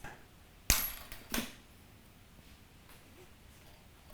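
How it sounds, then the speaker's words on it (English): Bass guitar string being cut with a sharp metallic snip, followed by a second fainter clip, close and otherwise quiet. "we're going to go ahead and cut the string"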